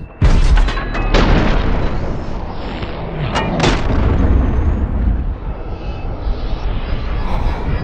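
A loud gunshot aimed at an axe blade to split the bullet cracks sharply at the start, then rolls into a long booming echo, with a few more distinct sharp cracks outdoors.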